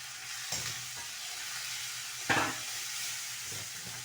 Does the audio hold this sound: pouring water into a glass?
no